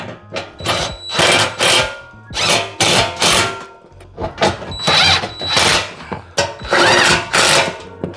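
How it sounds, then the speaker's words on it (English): A 13mm socket tightening a bolt while installing an overhead storage console on a Denago golf cart, heard as repeated loud, close bursts of ratcheting, several spaced bursts with brief pauses between them. "as I'm tightening this down. So, huh? Oh, this is a 13mm socket."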